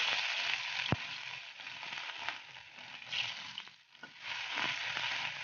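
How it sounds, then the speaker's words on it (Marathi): Ginger garlic paste hits a ladle of hot oil in a pan and crackles in a steady, close sizzle, with a sharp pop near the start and a brief dip midway before the frying resumes. "इथे मी 1 पळी तेल टाकून घेतलेलं आहे. यामध्ये मी आता 1 चमचा अद्रक लसूण पेस्ट टाकते."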